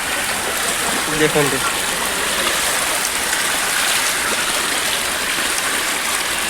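Floodwater streaming over a submerged road during heavy rain, a steady rushing wash heard throughout, with a person talking briefly over it.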